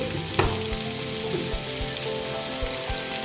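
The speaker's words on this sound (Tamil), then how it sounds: "தக்காளியும் நல்லா வதங்கிடுச்சு" Tomatoes sauté in a hot pan for carrot chutney, a steady close sizzle broken by a few soft knocks and stirring taps, with no talking.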